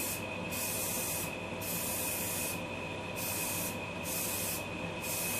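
Plasti Dip sprayed from an aerosol can onto a Chevrolet Cavalier: a steady, faint hiss of spray in short repeated bursts, each lasting under a second, over a constant background noise.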